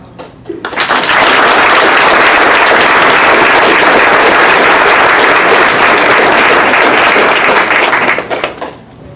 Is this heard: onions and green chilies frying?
no